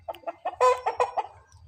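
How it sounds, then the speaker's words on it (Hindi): A rooster clucks in a quick string of about eight close, loud calls, with no voices over them. "प्यारा लगता है यार ये मुर्गा"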